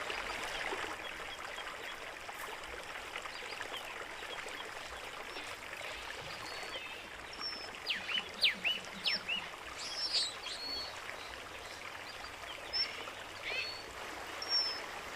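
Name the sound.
stream of water flowing down from mountains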